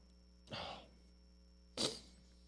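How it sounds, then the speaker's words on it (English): Two sharp, breathy sneezes from a person during a live stream, spaced about a second apart, each a short loud burst against a quiet background. "here come the sneezes again"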